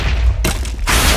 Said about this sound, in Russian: сейчас я стреляю, стреляю, стреляю, стреляю по нему